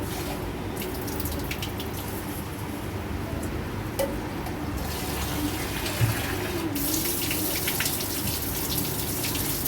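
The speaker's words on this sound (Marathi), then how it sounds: "असं दोन तीन पाण्याने चांगले धुवून घ्यायचे" Rice, one and a half glasses for five people, rinsed under a running kitchen tap; a steady, continuous rush of water flows throughout with no talking.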